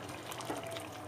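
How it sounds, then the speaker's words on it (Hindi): Water poured into a pan of aloo kofta: a brief, steady splashing pour at moderate volume, heard alone. "फिर मैं इसमें शामिल करूँगी पानी"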